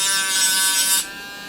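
A hobbyist Dremel rotary tool works on a Nintendo 64 game cartridge, giving a close, high, steady buzzing whine for about a second before it cuts off, leaving a faint hum.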